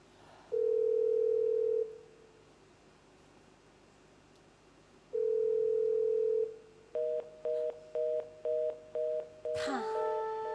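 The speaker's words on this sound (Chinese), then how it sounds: "这是天赐的电话。" A telephone handset gives two long, steady dial tones separated by a quiet gap, then a quick run of short keypad beeps ending in a sharper burst, heard in a staged Shaoxing Yue opera drama.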